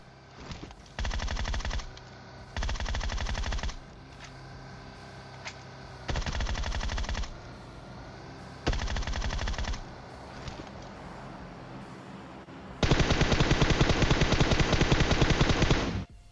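Automatic gunfire in a shooter video game, loud rapid bursts repeating several times with short pauses between, ending in a longer sustained stream of fire.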